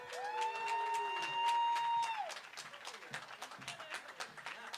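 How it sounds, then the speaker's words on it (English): A quiet crowd at a reopening celebration in Tacoma applauds essential workers, with scattered claps in the background and a drawn-out whistle ringing over the first half. "let's give another big round of applause for all of our essential workers"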